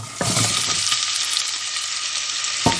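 Chopped ginger and onion hit hot oil with a sharp burst, then settle into a loud, steady sizzle and fry close by, with a light clink near the end.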